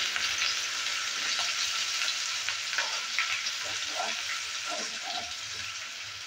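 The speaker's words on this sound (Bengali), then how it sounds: "পেস্টটা দেওয়ার পর একটু নেড়ে চেড়ে নিচ্ছে।" Spice paste being stirred into bitter gourd (karela) frying in a pan for karela sabzi, a steady close sizzle throughout with scraping stir strokes clicking through it, no voices.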